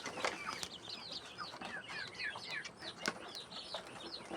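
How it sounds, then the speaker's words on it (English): Local chickens on a farm give soft, repeated clucks and chirps through the clip, near and moderate in level, with a few sharper calls and brief rustles. A busy background sits underneath and no one speaks. "This is pure local chicken."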